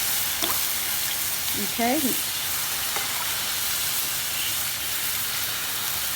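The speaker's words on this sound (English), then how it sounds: "take a ladleful and just drop it somewhere on your pan" Rava dosa batter sizzles steadily on a hot pan as ladlefuls are dropped on, a dense continuous frying hiss, with a brief spoken word over it.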